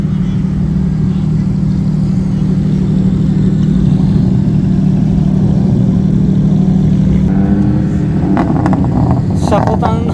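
A vintage American Dodge Challenger at a car show at Fuji Speedway gives a loud, steady low engine drone throughout, with a voice talking over it near the end.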